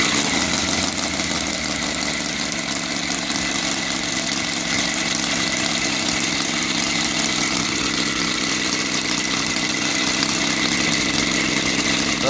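A brand-new EVO 7-77 engine converted to gasoline with CDI ignition runs smoothly at a steady idle, giving a continuous even buzzing drone close by with no change in pitch and no talking.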